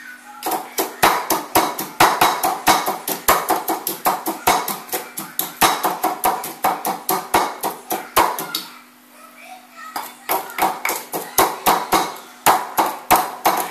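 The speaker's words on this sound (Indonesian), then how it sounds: "Tunggu ya, bawang putihnya saya tumbuk lagi sedikit lagi." Garlic being pounded with a pestle in a mortar for sambal Padang, a fast, steady run of sharp close thumps that pauses briefly partway through and then resumes.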